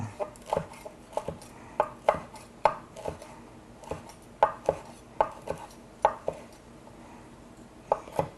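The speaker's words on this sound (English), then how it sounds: "You can just bunch all the leaves up together and run your knife through it" A knife chopping through bunched-up leaves on a cutting board, with a dozen or so crisp, close knocks in an uneven rhythm and short pauses between them, alone and fairly quiet.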